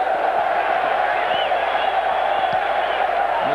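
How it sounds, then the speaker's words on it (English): A large football stadium crowd at a Champions World Series match keeps up a steady, distant roar of cheering with faint shouts rising from it, and a commentator's voice runs over the top. "Listen to the crowd."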